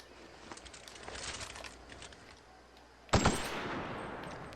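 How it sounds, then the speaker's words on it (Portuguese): Machine-gun fire in the video game The Outer Worlds: faint rattling bursts early on, then a loud, sharp burst of rapid shots erupts near the end and carries on as a dense, noisy roar. "Ah, é uma metralhadora."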